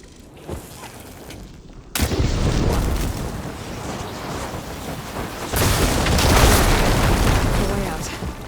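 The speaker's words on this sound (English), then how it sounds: "I should be able to blow this up to clear the debris. Hitting those blaze barrels with fire ammo should do the trick." In the Horizon Forbidden West video game, blaze barrels hit with fire ammo explode with a loud sudden boom, followed by sustained roaring rumble and a second surging blast of debris and fire that tails off.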